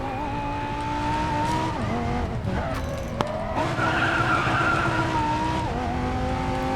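Racing Master video game car sliding sideways in a drift, its tire squeal loud and sustained over a steady engine drone that dips and shifts pitch partway through.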